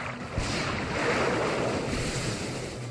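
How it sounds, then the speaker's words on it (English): Rain begins pouring in a Pokémon video game battle in the Colosseum, a steady hissing wash of rainfall with a soft rushing, wind-like texture, even and continuous throughout, with no talking. "It's now pouring rain in the Colosseum."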